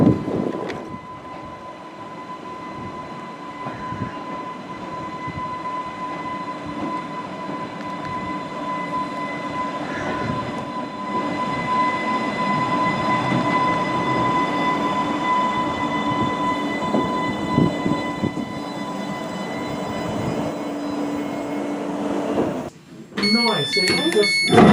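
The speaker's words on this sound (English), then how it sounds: "So our train should be arriving now to take us to Lake." An Island Line train rumbles into a station on the Isle of Wight, with a steady rolling drone, faint wheel squeal and rising rail clatter that ends in a brief clunk, while people talk nearby.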